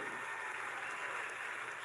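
An audience of executives applauds after Otto Octavius's speech, a steady, even patter of many hands clapping, moderately distant and continuous.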